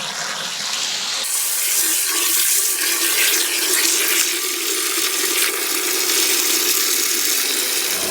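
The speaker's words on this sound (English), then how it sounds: "we're ready to fill it up with strike water" Water rushes steadily into a Spike Solo15 brew kettle, filling it with about six gallons of strike water for a first home brew; a loud, continuous hissing pour with no talk.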